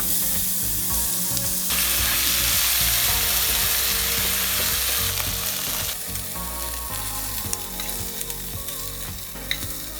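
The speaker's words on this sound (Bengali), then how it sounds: "মাখানো হয়ে গেলে সবগুলো মাংস একই তেলে হালকা ভেজে নিব।" Meat rubbed with ginger-garlic paste and salt frying in oil in a pan for khud biriyani, a loud, dense, close sizzle that swells for several seconds, then settles with light scraping.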